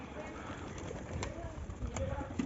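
Soft pigeon cooing murmurs beneath someone talking, with other faint bird sounds in the background.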